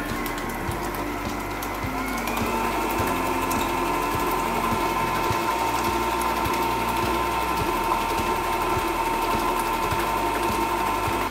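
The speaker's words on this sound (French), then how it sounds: "Et on met à mélanger, vitesse 4 pour ceux qui veulent" Kitchen food processor running steadily at speed 4 while mixing a dessert cream, a continuous close mechanical whir with a rhythmic clattering motor pulse throughout and a slight pitch rise early on.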